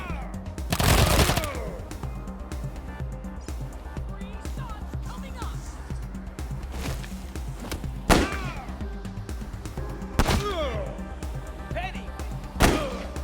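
Gunfire in the video game Wasteland 3, a few loud heavy bangs spread out over a busy backdrop of game music and effects, with voices talking in between.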